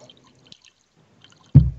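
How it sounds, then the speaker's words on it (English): Whiskey poured into a glass in a tavern, a short liquid splash and gurgle lasting a fraction of a second, close and fairly loud, after a quiet stretch with faint room noise. "Okay, we'll pour another whiskey."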